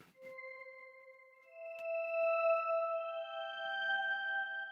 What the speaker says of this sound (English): But that sound is just reverb.